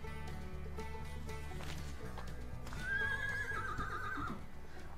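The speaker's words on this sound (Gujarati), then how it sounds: "રાજલ, હે ઘોડી," A mare on a farm gives a loud, quavering whinny over a steady rhythm of hooves clip-clopping nearby, the call rising in the middle and fading out.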